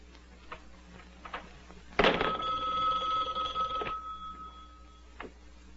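An old-fashioned telephone bell rings once in a single loud, sustained ring of about two seconds, with soft background sounds before and after.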